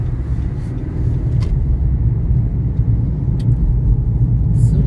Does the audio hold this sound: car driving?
yes